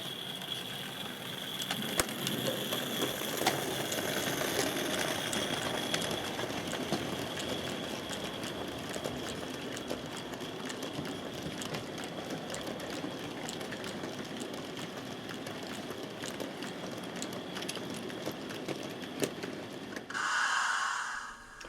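A model N2 0-6-2 tank engine with a sound unit pulls a train of oil wagons, giving a steady hissing, chuffing drone over a running rumble that holds throughout. Near the end a brief louder burst stands out.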